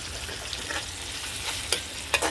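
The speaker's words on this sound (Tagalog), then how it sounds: "So, gisa-gisa lang natin." Aromatics sautéing in a pan for mung bean soup, a steady close frying hiss with a few sharp utensil scrapes and knocks against the pan near the end.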